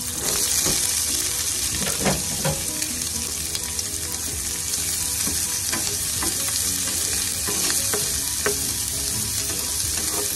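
Onion and garlic frying in a pan, a dense, continuous sizzle with frequent clicks and scrapes of stirring, close and steady, with no talking.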